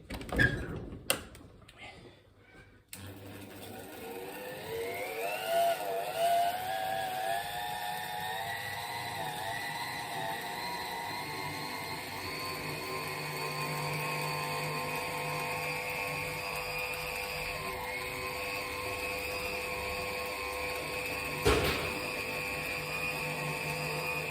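An 85-year-old valve seat grinder clicks on, then spins up into a steady, moderately loud whine that holds for about twenty seconds while grinding old valve seats in an engine head.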